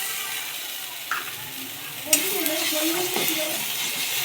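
Ginger garlic paste frying with browned onions in a pan for biryani, a dense steady hiss and sizzle close up, with a sharp clink of a utensil partway through and faint stirring scrapes.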